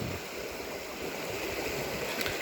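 A shallow river in Bilya Undayon, running low after intense heat, flows with a steady, continuous wash of water noise at moderate distance, with no voices over it.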